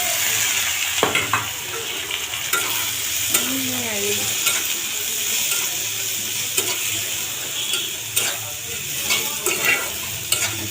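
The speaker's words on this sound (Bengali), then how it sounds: "এখন ভেজে নিতেছি পেঁয়াজটা" Chopped onion frying in hot oil with whole cloves, bay leaves and cardamom for a chicken curry gives a steady, close sizzle with occasional stirring scrapes and clinks, and no talking.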